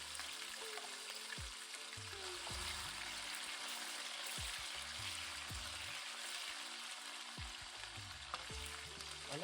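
Onions and green chilies sizzle steadily in a hot pan for a potato tomato curry, a continuous bright frying hiss with occasional low stirring knocks and scrapes, close and fairly loud, no talk.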